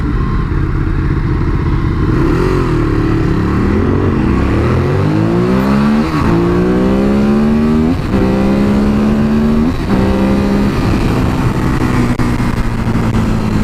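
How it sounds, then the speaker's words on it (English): A Ducati Multistrada 1200 Enduro and a Ducati Monster 821 accelerating hard, their engines loud and close with rising revs repeatedly climbing through gear changes over a steady roar. "Ducati Multistrada 1200 Enduro versus Ducati Monster 821."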